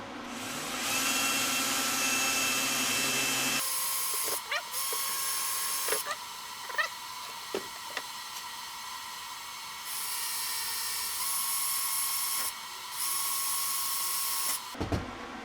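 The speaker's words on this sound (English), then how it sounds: "I'm just going to drill through here while this is in place" A power drill whines at high speed in long bursts, drilling through a plastic Knight Rider switch pod, stopping and restarting, with small clicks and knocks from the tool between runs.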